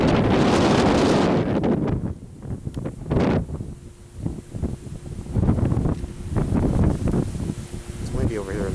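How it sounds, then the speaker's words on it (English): Wind gusting across an exposed stretch of Maui's back side near the road to Hana, buffeting the microphone in loud bursts with calmer gaps, while people speak intermittently over it. "It's windy over here on this side of the island."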